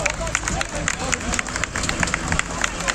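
Protesting villagers in Çınar Yaprakbaşı, Diyarbakır, clapping in a dense, loud burst of applause with crowd babble and scattered voices around it.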